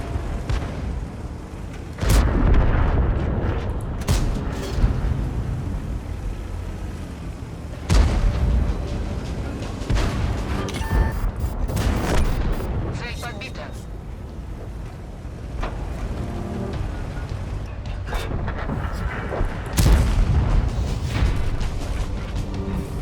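Heavy tank-destroyer cannon shots from the KV-4 KTTS in World of Tanks, with three booming blasts spaced several seconds apart over continuous engine and battle rumble.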